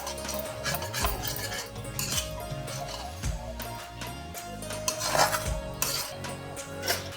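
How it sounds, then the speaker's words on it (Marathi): A spoon stirs vermicelli upma with ghee and lemon juice in a metal pan, producing steady close scraping and clinking with soft rhythmic clatter and no talk. "छान मिक्स करून घेऊ"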